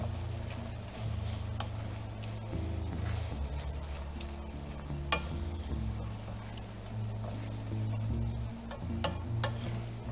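A brown sugar and Worcestershire sauce mixture is stirred in a pan over a steady low sizzle, with scraping and clinking of the utensil throughout, moderately faint and continuous.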